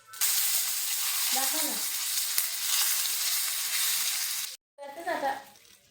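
Sesame seeds hit hot oil with finely chopped fried garlic and sizzle loudly and continuously, a bright steady frying hiss that cuts out briefly, then resumes more softly while someone speaks.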